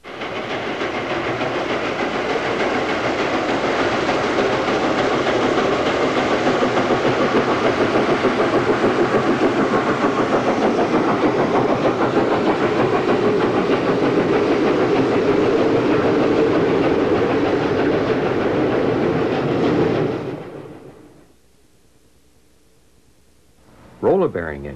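New York Central J3 Hudson steam locomotive hauling a train, a loud continuous rumbling rush of rolling wheels and steam lasting about twenty seconds before cutting off abruptly, leaving near quiet.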